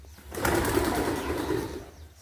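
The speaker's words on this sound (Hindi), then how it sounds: "यहाँ पर कबूतर वगैरह है" Pigeons gathered at a 525-year-old mosque in Rani Bagh, a soft, murmuring burble of cooing mixed with rustling, close and fairly steady for a couple of seconds with no voices.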